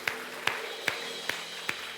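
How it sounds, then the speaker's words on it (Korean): Slow, evenly spaced claps, five in two seconds, sound over a low background hum as a Korean church youth worship service gives glory applause after a prayer. "우리 주님께 영광의 박수 올리겠습니다."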